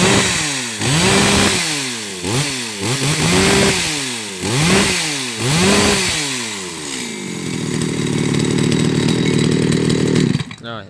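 A Shindaiwa 1042s chainsaw revs in a rapid series of sharp bursts, then settles into a steady high-pitched running drone before cutting off abruptly, loud and close.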